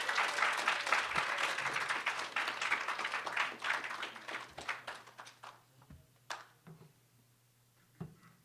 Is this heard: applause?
yes